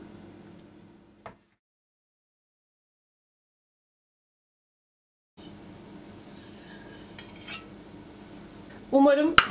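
A knife and utensils scrape and clink against a plate while a mosaic cake is cut and served. A brief tap comes first, then a long silence, then a louder burst of clattering at the end.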